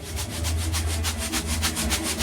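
A cardboard box of sea salt labelled Sel de mer is shaken quickly near the mic: a steady, even run of gritty rattling bursts over a faint low hum, with no voices.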